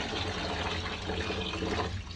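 Rice being rinsed by hand in a pot of water makes steady close sloshing and swishing, a continuous wet churning with no voices.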